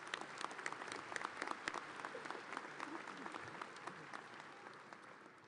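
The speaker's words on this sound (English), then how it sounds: "Please join me in recognizing these individuals with your applause" A large audience at a Virginia Tech graduate school commencement ceremony breaks into sustained applause, a dense, steady wash of many hands clapping that fades slightly toward the end.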